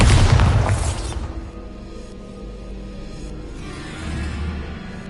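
In Hogwarts Legacy, the Bombarda spell goes off as a loud, deep explosion boom that bursts at the start and then decays into a low rumbling tail, with no voices.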